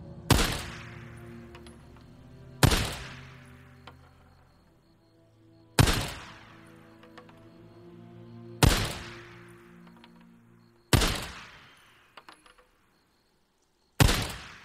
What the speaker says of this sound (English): let's bust the pistol out